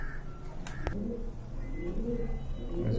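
Domestic pigeons, Giant Runt and Grizzle breeds kept for sale, coo softly in low, rolling phrases against a noisy background, with a few sharp knocks and no speech.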